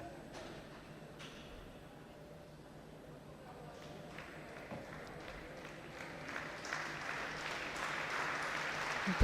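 Crowd applause at a women's W100 professional tennis tournament in Shrewsbury, a steady distant patter of clapping that gradually swells louder toward the end, with faint commentary-like voices underneath.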